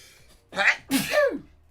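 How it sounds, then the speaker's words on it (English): Two sneezes in quick succession from a man working late at night on a tank's hull and turret interior, the first a sharp burst and the second a fuller, louder one, both close by. "I sense a sneeze coming on, and I sense another one, actually."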